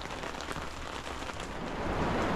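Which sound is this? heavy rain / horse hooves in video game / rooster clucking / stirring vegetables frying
heavy rain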